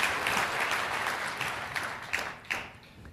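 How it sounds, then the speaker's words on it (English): An audience at a talk gives a short, steady round of applause, dense clapping that thins out slightly toward the end. "So round of applause for Mark."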